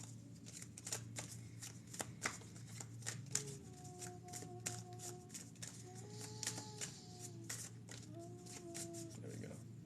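A tarot deck is shuffled in quick, repeated riffling bursts close by, while a person talks softly over the card sounds.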